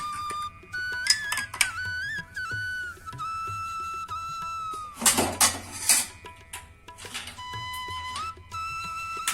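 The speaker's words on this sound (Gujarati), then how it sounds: "હવે આપણે આમાં બરફ નાખી દઈશું." Ice cubes drop into a glass of fennel sharbat with a few sharp clinks and rattles, close by. Thin, steady whistle-like tones run underneath.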